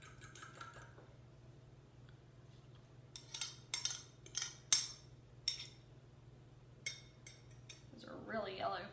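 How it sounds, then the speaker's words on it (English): Two eggs and two egg yolks are beaten in a bowl for a bacon and Swiss quiche: a short cluster of bright whisk or fork clinks against the bowl, fairly quiet, in a soft room hum, with more clatter near the end. "I've got 2 eggs and 2 egg yolks that I'm going to beat just a little bit"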